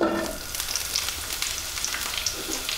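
Steady, dense sizzle of two tablespoons of olive oil heating over medium heat in a large frying pan, continuous and fairly close, with faint crackles throughout and no talking.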